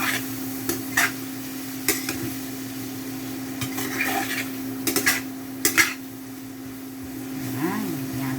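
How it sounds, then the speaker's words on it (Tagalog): Beef stirred in a hot pan with a utensil, scraping and clinking against the metal in short irregular bursts over a steady low hum and faint background sizzle. "Ilagay na natin ang ating baka. Kutsayin na natin"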